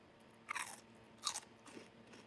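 Two sharp crunches of crispy chicharon bagnet eaten with kimchi, each a short bright burst, followed by softer chewing; close and fairly faint with no talking.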